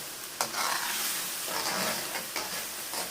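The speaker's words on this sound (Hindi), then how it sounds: "इसको अब अच्छी तरह भूनूँगी" Masala being stirred and fried for a restaurant-style chicken karahi, a steady close sizzle with scraping strokes of the spoon through the pan, continuous at moderate loudness with no talking.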